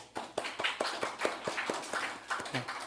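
A church congregation claps together in a steady burst of applause during a Sunday service, sharp overlapping hand claps filling the room for a few seconds.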